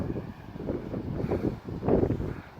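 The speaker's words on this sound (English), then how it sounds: "The wind isn't that bad." Gusty wind buffets a wild camp on the North Cornwall coast, a steady loud rumble with rising and falling surges and a stronger gust near the end, with no voices.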